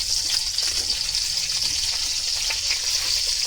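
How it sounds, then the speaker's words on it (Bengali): Bay leaves and cinnamon leaves sizzling in hot ghee for a vegetable biryani, a steady close hiss of frying with no talk. "এবার ওইটার মধ্যে একটা ঘি দিয়ে দিন চামচ দিন তেজপাতা আর এই যে দালচিনির পাতা দালচিনির পাতাটাও দিন"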